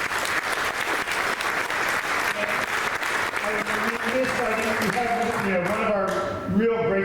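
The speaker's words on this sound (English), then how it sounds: "please a round of applause for everybody volunteering to help" An audience claps for volunteers at a Backstage at the Sanctuary d.c. Space reunion event, a steady, full round of applause with music or voices rising in tone near the end and a brief dip before a final swell.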